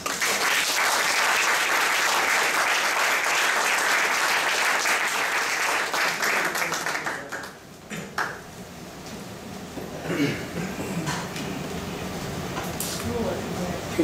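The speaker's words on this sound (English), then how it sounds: "please welcome Ambassador Lama with a very warm round of applause" Sustained audience applause for an ambassador at a lecture on Nepal–Korea relations, loud and dense for about seven seconds, then thinning into scattered claps and room noise.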